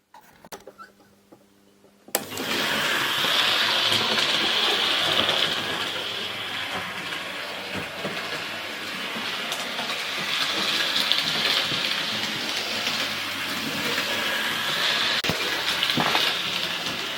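Vintage OO gauge model locomotive running on track, starting abruptly with a steady, close, loud mechanical whirring hum that holds for a long stretch with faint clicks, no talk.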